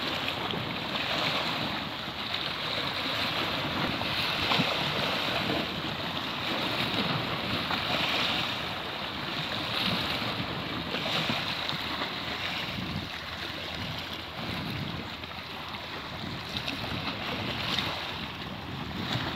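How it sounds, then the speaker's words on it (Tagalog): Waves break steadily along the Dammam Corniche seafront under continuous wind noise, a wide, fairly faint wash of surf with no voices. "Pumuputok na naman ang alon"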